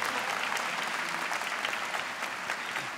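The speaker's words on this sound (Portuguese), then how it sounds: "Aplauda esse que está do seu lado" Congregation applauding together at a Catholic church service, a steady dense wash of many hands clapping at moderate distance with no speech over it.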